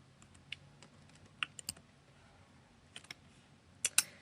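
Scattered computer keyboard keys clicking sharply while a drawing shortcut is pressed in an animation program, a few isolated taps then a quick double click near the end, fairly quiet with no talk.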